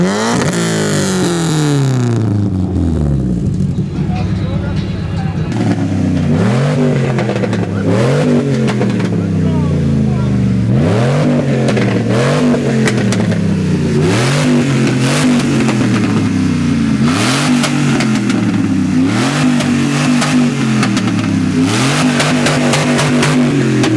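A car engine at a car meet revs hard again and again, loud and close, each burst climbing sharply then dropping back in a steady cycle of throttle blips.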